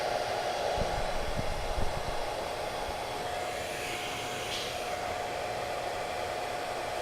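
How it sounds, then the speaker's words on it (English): A Blue InStyler hair dryer diffusing hair blows with a constant, whooshing roar and a thin steady whine, running uninterrupted at close range. "So this is called the Blue InStyler blow dryer."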